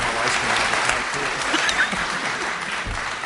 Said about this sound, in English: Let's give everybody a round of applause right now.